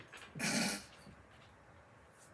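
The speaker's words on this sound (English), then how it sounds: "She's trying to get out. She about to bark." A dog indoors gives a single faint, short growling whimper against a quiet room, then low background hiss.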